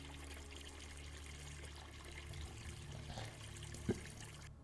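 Water trickling and pouring as a bucket is filled in a cellar in a village horror video game, a steady liquid stream over low background hum, with a brief sharper splash or clunk near the end.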